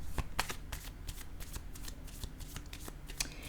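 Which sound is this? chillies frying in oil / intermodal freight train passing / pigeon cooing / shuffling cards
shuffling cards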